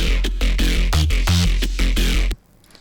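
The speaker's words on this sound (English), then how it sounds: "So what I played before is not completely right how the bassline sounds." A punchy electronic bassline pulses in short rhythmic hits over a driving beat, then cuts off abruptly into near silence.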